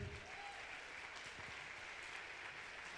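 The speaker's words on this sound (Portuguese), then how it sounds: "Uma salva de palmas ao Senhor" Congregation applauding at a women's church congress, a steady, fairly faint wash of clapping that holds evenly across the whole stretch with a brief murmur of voices early on.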